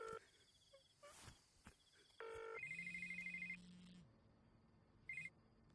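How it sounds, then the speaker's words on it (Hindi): A telephone rings in short electronic tone bursts during a tense scene in a Punjabi crime drama, repeating a few times over a low background hum, with no speech over it. "भाई फोन लग गया।"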